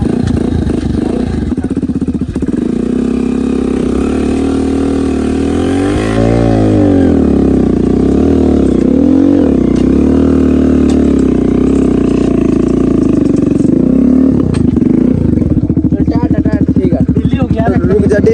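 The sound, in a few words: Bajaj Platina or Hero HF Deluxe motorcycle engine riding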